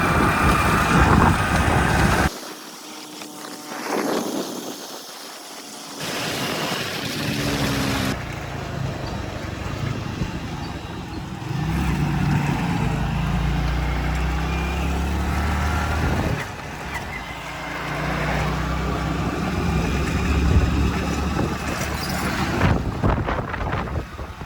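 A motorcycle ridden on a road in Punjab rumbles low and close beneath heavy wind buffeting. The sound is steady for most of the ride, with a short quieter dip near the start.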